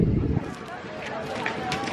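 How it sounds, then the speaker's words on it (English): Gusty wind buffets the microphone, a low rumbling burst at the start easing into a steady rushing hiss. "It's a pretty windy day"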